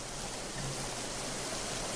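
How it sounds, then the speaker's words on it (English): A waterfall in the video game Road to Eden gives off a constant, dense rushing hiss of falling water, steady and even throughout with no voices. "okay, that's a waterfall."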